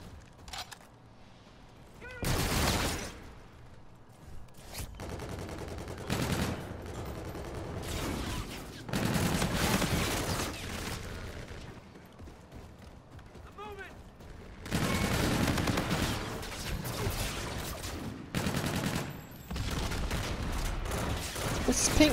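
Rapid bursts of rifle fire in Call of Duty Infinite Warfare, loud clustered volleys separated by short lulls, mixed with game effects and a talking player.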